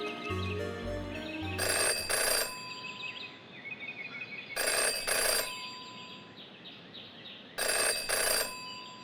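A telephone bell rings in three separate bursts with pauses between them inside the video game Jenny LeClue, faint under a soft ambient backdrop.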